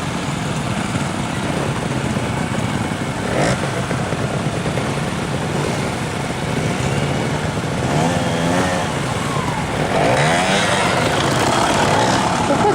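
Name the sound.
motorcycle riding through cone course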